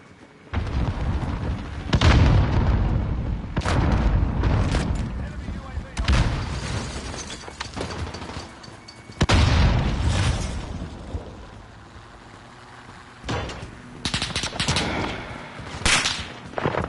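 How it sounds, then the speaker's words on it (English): Gunfire in Call of Duty Modern Warfare: loud, dense bursts of shots and heavy booms come in clusters across the stretch, with quieter gaps between volleys and a muffled voice underneath at times. "Where are these shots coming from?"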